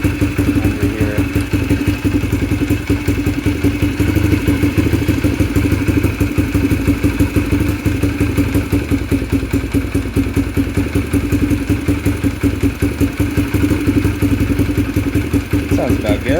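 A Yamaha TTR125 engine fitted with a Mikuni TM24 carburetor idles close by with a loud, steady, rapid single-cylinder thumping that holds evenly throughout.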